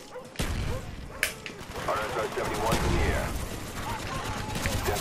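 Sustained automatic fire from the Death Machine minigun in Call of Duty: Black Ops, a dense rapid rattle running the whole stretch with a sharp shot standing out, loud and close, with players talking over it.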